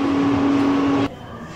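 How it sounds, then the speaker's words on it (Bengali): A kitchen mixer grinder whirs steadily, blending salt, a little sugar, and roasted coriander and cumin powder into a paste, with a strong motor hum that cuts off abruptly about two-thirds through, leaving quieter room noise. "এবারে সব কিছু একসাথে মিক্সিতে পেস্ট করে নেব"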